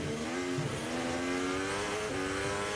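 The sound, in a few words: Ferrari Formula 1 race car engine accelerating out of corner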